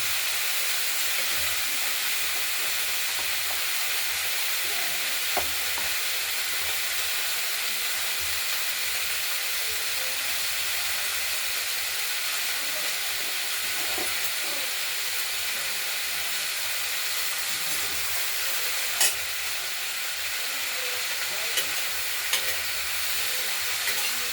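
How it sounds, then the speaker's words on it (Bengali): Flat beans and sweet potato stir-frying in oil in a kadai with mustard and chilli tempering, a steady broad sizzle and hiss running throughout with occasional faint scrapes of stirring, no voices. "শিম এবং রাঙা আলু ভাজা ভাজা, এটা আমরা করব"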